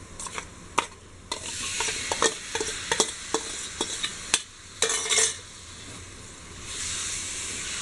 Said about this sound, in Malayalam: ബീഫ് പീസസ് ആഡ് ചെയ്യാം.